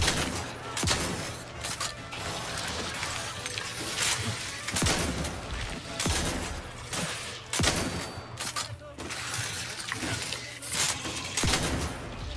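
Shotgun fire in The Outer Worlds 2, with repeated loud, sharp blasts about every second or two over busy combat noise and shattering impacts, sustained throughout.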